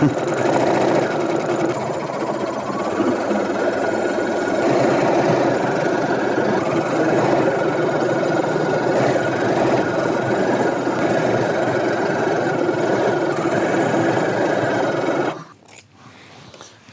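A sewing machine stitches fabric in one long, steady mechanical whir, close and continuous for about fifteen seconds, then stops abruptly, leaving quieter room sound.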